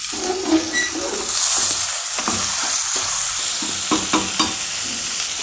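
Half a kilo of Bangalore tomatoes goes into a hot pan for a tomato kurma, a close, loud sizzle and frying hiss with stirring scrapes and clinks.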